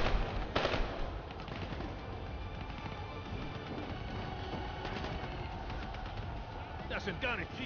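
Gunfire in the video game Call of Duty: Black Ops 3, a steady stream of automatic shots mixed with dense battle noise that runs under the whole stretch, with a few sharper bursts near the end.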